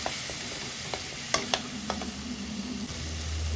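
Spice masala with curd cooks down in a pan for a Bengali doi rui fish curry, making a steady low sizzle with a few sharp spatula clinks and scrapes near the start; close, even, and without speech.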